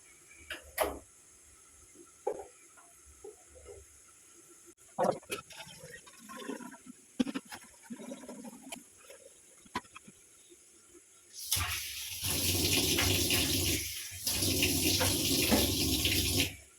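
A few light clinks and handling noises, then a tap opens and water runs steadily into a sink for several seconds, close by.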